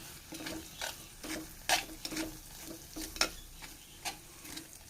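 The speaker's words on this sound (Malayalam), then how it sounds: "ഇതെല്ലാനും കൂടി ഒന്ന് വഴറ്റിയെടുക്കുക ആ പൊടികളൊക്കെ ആ പച്ച സ്മെല്ല് മാറുന്നേരി ഒന്ന് വഴറ്റി കൊടുക്കുക" Spices and Kashmiri chili powder being sautéed in a pan for a mackerel roast, a low sizzle under repeated scraping stirs and sharp ticks of a spoon against the pan, close up with no talking.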